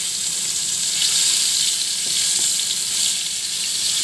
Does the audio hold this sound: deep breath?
no